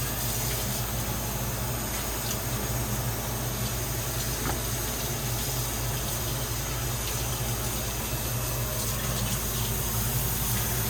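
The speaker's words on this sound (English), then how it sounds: "So I'm just going to wash these really quickly." Seafood is rinsed under a running kitchen tap, with water gushing in a steady, loud stream that continues without a break and no talking.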